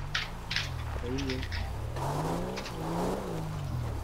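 A Jeep driven in the video game GTA 5 sends out an engine hum that rises and falls with acceleration, mixed with game effects and bursts of other noise, while people talk over it.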